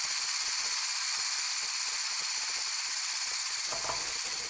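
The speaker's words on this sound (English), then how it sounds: "Then using your trusty hand blender, give it a good blitz." A hand blender whips egg whites into stiff peaks for baby vegetable tempura batter, giving a loud, steady, close-up whirring hiss that runs unbroken throughout.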